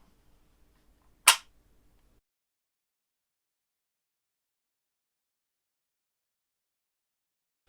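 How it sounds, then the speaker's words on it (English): A flintlock's hammer snaps forward and the flint strikes the metal frizzen, giving one sharp, loud crack in otherwise near-silent surroundings. "The idea is the hammer with the flint flies forward, strikes the metal frizzen, which uncovers the pan and powder and makes a spark"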